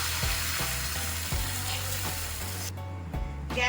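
A ladle of rice flour batter sizzles in a lightly oiled pan on a griddle. The frying hiss is loud and continuous, broken by a few soft clinks, with a brief dip near the end.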